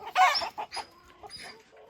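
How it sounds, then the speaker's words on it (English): Silkie chickens cluck in a short run of soft, bursty calls, loudest at the start and then trailing off into quieter, irregular clucks close by, with no talking. "silky chickens."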